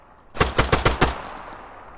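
A quick burst of five automatic gunshots in a video game, sharp evenly spaced cracks fired in rapid succession and fading into a short echoing tail.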